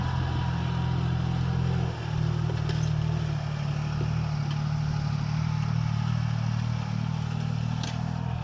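Başak 2060 tractor pulling a 20-disc harrow across a field, its diesel engine droning low and steady under load with faint metallic clatter from the implement, continuous and close throughout.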